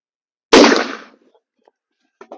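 A single loud, close gunshot from a Marlin 1895 SBL lever-action rifle with a short-barrel factory Hornady load, a sharp crack that decays quickly into near silence, followed by faint clicks.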